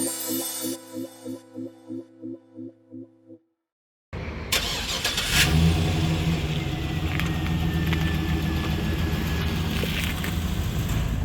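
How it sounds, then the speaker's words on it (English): A pickup truck on a test drive: after a run of rhythmic, tonal pulses and a brief silence, a steady engine drone with road rumble runs throughout, close and fairly loud. "here we are in this truck giving it a test drive"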